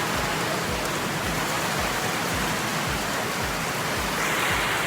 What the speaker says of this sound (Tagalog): Hey guys, it's raining.